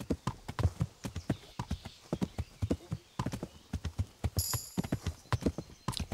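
A horse is ridden across the medieval world of Kingdom Come: Deliverance, its hooves beating a quick, steady, close clip-clop rhythm, with a brief high chime from the game partway through.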